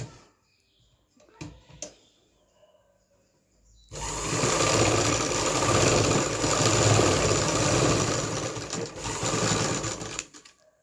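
A sewing machine stitches pleats on a lined kurti, starting after a few seconds of near silence with faint handling sounds, then running as a loud, steady whirring burst for about six seconds before stopping.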